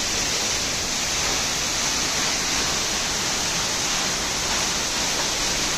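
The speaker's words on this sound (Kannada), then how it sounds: "ನೋಡಿ ನೀರು ಬೀಳ್ತಾ ಇದೆ, ನಾವು ಈಗ ಮಧ್ಯದಲ್ಲಿದ್ದೇವೆ." Water pours down at Baba Waterfalls inside a wide cave-like rock hollow, a loud, constant hissing roar that fills the space evenly from start to finish without any break.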